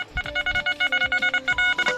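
A rapid series of electronic tonal beeps pulses in a steady rhythm, close and clear, like a metal detector signal, with no talking.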